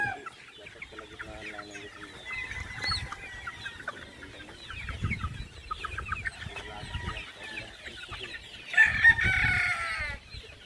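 Hens cluck and chatter close by while a rooster crows loudly near the end, over faint outdoor background.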